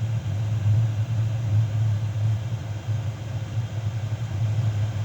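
An 8 kW diesel heater burning waste oil runs with a steady low droning rumble and faint broadband hiss, constant and close, with no talking.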